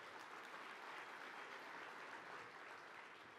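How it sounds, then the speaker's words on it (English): Conference audience applauding to thank event sponsors: a dense, even wash of many hands clapping at once, steady and fairly distant, with no voices over it. "Round of applause for them."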